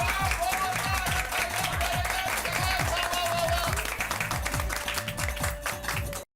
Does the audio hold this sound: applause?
yes